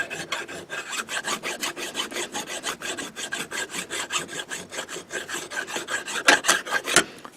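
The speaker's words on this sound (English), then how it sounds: "Now you could go to an even finer mill file for some cleanup work at the end." A mill file rasps across a persimmon golf club head in steady back-and-forth strokes, about four per second, close and crisp, with no voices.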